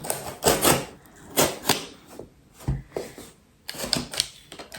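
A cardboard box holding an orchid is opened up close, with a series of sharp crackling tears and rustling bursts coming in irregular clusters.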